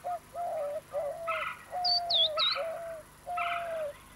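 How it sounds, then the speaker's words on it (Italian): Small birds call from a nest where an adult brings food, giving a run of short repeated calls and higher thin notes. The calls come in close, clear bursts with brief pauses between them and no talk. "Un esemplare adulto che porta cibo e un pigolio suggeriscono la presenza di molti piccoli."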